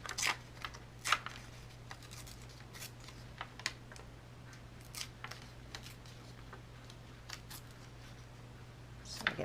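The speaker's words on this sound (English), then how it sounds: "So I'm going to tear back and forth." Paper torn by hand in short back-and-forth rips for a journal spread, quiet dry tearing bursts spaced irregularly over a soft steady hum.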